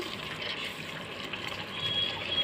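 Water being poured into a pressure cooker for chicken biryani rice, a soft continuous trickling and filling sound, fairly quiet and close, with no talking.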